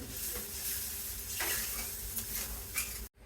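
Fish pieces dropped into boiling curry gravy in a pot on the stove: continuous close bubbling and sizzling with a few stirring and pot-contact knocks, ending in a brief cutoff, no talking.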